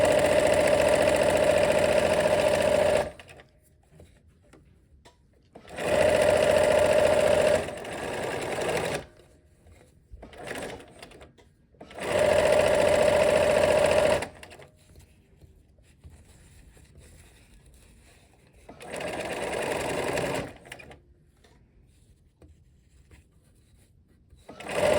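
A sewing machine stitches in four bursts of a few seconds each, a loud close mechanical whir that stops and starts, with quiet handling noise in the pauses.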